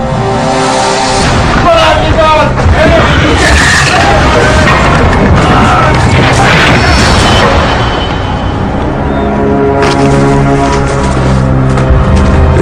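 Cannon fire and crashing impacts of an attack during the American Revolution, a dense, loud and continuous barrage of booms and rumbles with a voice speaking over it.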